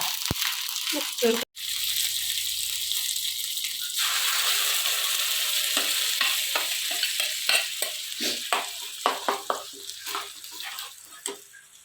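Mustard seeds, dried red chillies, shallots and curry leaves tempering in hot oil for chutney: a loud sizzle breaks out, then scattered sharp popping crackles grow more frequent, close, with a voice speaking briefly at the start.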